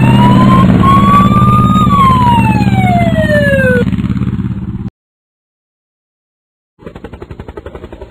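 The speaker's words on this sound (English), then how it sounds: "Police motorcycle." A police motorcycle siren wails loudly and close, rising and falling over an engine rumble for about five seconds, then cuts out before a pulsing engine returns.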